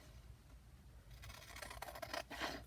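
Scissors cut through thin junk-mail cardboard close by, giving quiet snipping and scraping strokes after a brief hush, with no talk.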